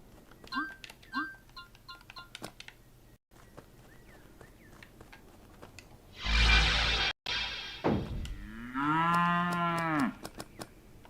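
A cartoonish cow in the cooking game Epic Chef lets out a drawn-out, tonal moo. Chiming game effects and a brief noisy burst come before it.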